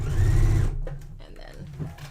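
A sewing machine runs a short back stitch on a dress being upcycled into a skirt, a loud steady whir lasting under a second before it stops and a voice talks.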